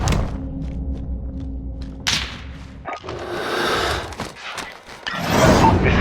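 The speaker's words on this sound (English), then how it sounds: "Cruise missile, go for launch." Cruise missile launch in Call of Duty Modern Warfare: a low rumbling thud and whooshing roar that swells, breaks off, then surges into a loud broadband rush with rumble underneath.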